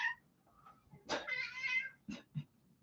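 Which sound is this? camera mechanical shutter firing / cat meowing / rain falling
cat meowing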